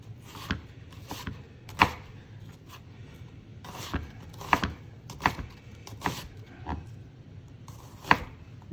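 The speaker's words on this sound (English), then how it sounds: "the way to julienne onion, you take your half onion, you put it on the cutting board" Knife julienning half an onion on a cutting board, a series of quiet, crisp taps and slicing strokes at an uneven rhythm, close by and faint with no talking.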